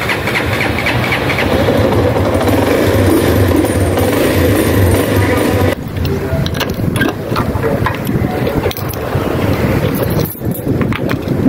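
A carbureted Honda XR200 motorcycle engine running steadily, a loud close rumbling drone with wind buffeting the microphone, continuing without pause.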